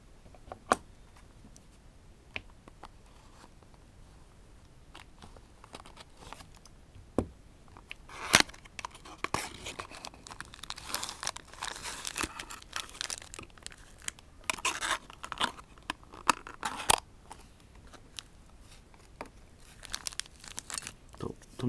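Packaging for a Tomica Suzuki Hustler toy car is torn open, with scattered crinkles and crackles that start sparse and grow into busier bursts of rustling, quiet and close.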